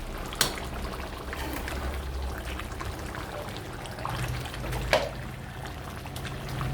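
Curry made with coconut oil is stirred in a pot, giving a steady wet sloshing and bubbling with a couple of sharp clinks from the spoon against the pot.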